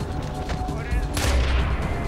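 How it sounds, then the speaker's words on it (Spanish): Enemy helicopter gunfire in the video game Far Cry 4 rattles through a dense burst of shots and a loud blast over steady low game rumble, with no talking heard. "me está disparando el helicóptero"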